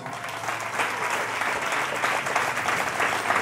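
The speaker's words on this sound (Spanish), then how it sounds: "Dale un aplauso a Dios." Steady, dense applause from a large church congregation, many hands clapping together at an even loudness throughout.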